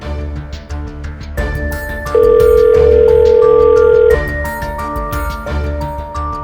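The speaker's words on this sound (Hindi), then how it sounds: "ऑफिसर दास, फोन उठाइए।" An outgoing telephone call rings out in a tense courtroom-drama scene, with a steady electronic ring tone sounding over background music and a sustained tone in the middle.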